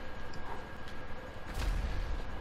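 Tank cannon fire in the online game GTA V: a heavy, low boom hits about two-thirds of the way in, its deep rumble swelling over a steady backdrop of game noise.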